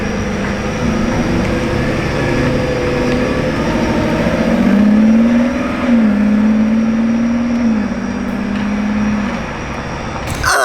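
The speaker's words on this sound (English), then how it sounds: "I think I've heard a V12 startup! Oh yes, beautiful yellow Revuelto!" A yellow Lamborghini Revuelto's V12 starts and revs, a loud, steady engine drone rising into a sustained higher-pitched rev in the middle before easing back, heard alone with no talk.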